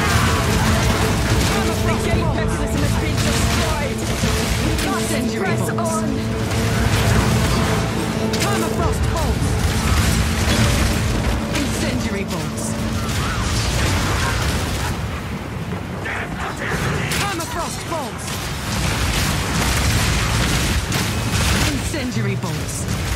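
Incendiary crossbow bolts fire and burst in Path of Exile 2 within a dense, continuous wall of booming explosions and mechanical battle clatter, with talking layered over the steady roar.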